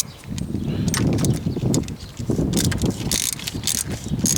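Socket ratchet snugging the drain plug back in during an oil change on a 2.4 Pontiac G6, a steady run of close mechanical clicking and working noise with no talk.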